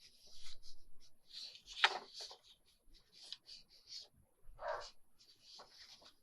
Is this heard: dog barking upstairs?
yes